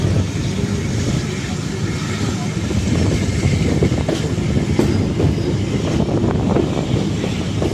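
Pakistani passenger train running, heard from the open cabin door: a loud, steady rumble of wheels and carriages with rhythmic clickety-clack over the rails, continuous throughout.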